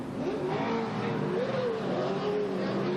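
A race car pulling away from a pit stop at the 2003 Daytona 500, engine note rising and falling as it accelerates out, heard amid steady broadband track noise.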